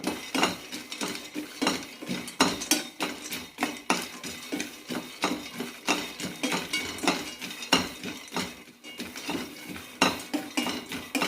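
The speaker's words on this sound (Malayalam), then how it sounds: "കടല നല്ല ബ്രൗൺ കളർ ആവുന്നവരെ വറുത്തെടുക്കാം" Repeated scraping and clinking of a utensil stirring peanuts roasting in a metal pan, close up, steady rhythmic strokes with no talking.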